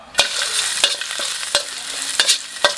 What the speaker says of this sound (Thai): ตั้งกระทะใส่น้ำมันไปนิดหน่อยนะครับ กระเทียมสับ